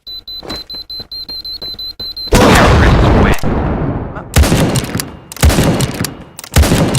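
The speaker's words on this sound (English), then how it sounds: "it's going to explode" A loud explosion in Valorant booms out after a stretch of rapid beeping, followed by further heavy bursts and blasts, forceful and close.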